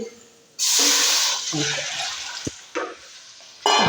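Water splashes into a bowl holding ground raw rice and coconut milk for a sweet dish, a loud close pour in bursts with brief pauses between.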